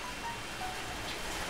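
Rain falling steadily on a Sunday in Angeles City, Philippines, a continuous close hiss of drops with no voices.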